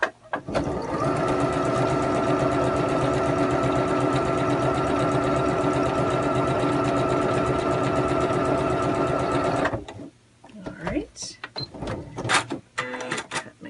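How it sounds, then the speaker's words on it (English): A sewing machine stitching a quilt block diagonally corner to corner, a steady loud rapid mechanical whir for about ten seconds, then stopping to scattered clicks and handling noises close by. "I'm going to go ahead and sew on that line corner to corner"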